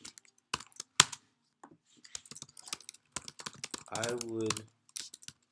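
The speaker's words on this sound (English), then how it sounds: "make it longer, but I'm typing it in clips" Computer keyboard typing while writing a simple essay: bursts of quick, close clicks and key taps spread through the clip, with a person talking over and between them.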